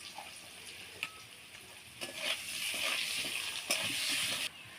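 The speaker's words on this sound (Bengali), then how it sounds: "এবার আলুটা ভেজে নিচ্ছি" Sliced potatoes frying in oil in a kadai, a steady soft sizzle broken by a few sharp clicks and scrapes of stirring, close and unaccompanied by voices.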